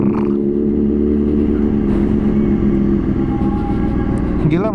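A Honda CBR 600 RR HRC Edition motorcycle fitted with an Akrapovic exhaust runs with a smooth, steady engine drone, close and fairly loud, with a rising rev near the end.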